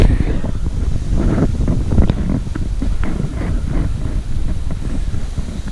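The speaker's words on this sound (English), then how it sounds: "got a bit too windy" Wind blows at a fishing lake, buffeting the microphone in a continuous low rumble, with gusty surges and soft splashing texture.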